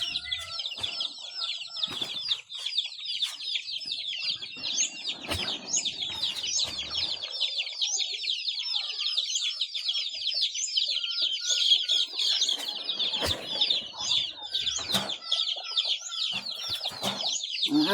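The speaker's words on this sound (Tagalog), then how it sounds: "Yung mga sisiyo masyadong ano na, nag-iingay na para gusto nang kumain." Hungry chicks cheep and peep continuously and loudly in a dense chorus, with scattered clucks and brief wing flutters from nearby poultry, and no talking.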